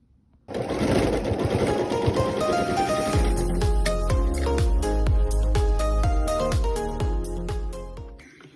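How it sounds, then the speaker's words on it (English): Sewing machine stitching pieced quilt block units together for a mini scrappy churn dash, a smooth steady run that breaks into rapid rhythmic bursts of stitching, close and alone. "Then I'm going to sew these 3 together, these 3 together."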